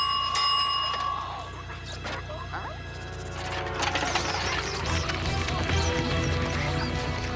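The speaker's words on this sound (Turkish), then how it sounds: "Zil sesi çıkarabileceğimden eminim." A bell rings in a cartoon, a bright metallic ring near the start, followed by clattering and busy sound effects.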